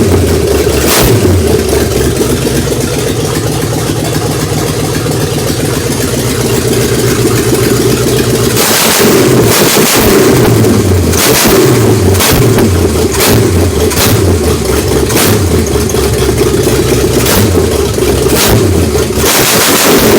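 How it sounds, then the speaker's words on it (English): A 388 small-block Chevy V8 is revved to warm it up, idling roughly at first and then opening into a string of loud, repeated throttle blips that rise and fall close by. "Let's do a quick rev up and warm it up."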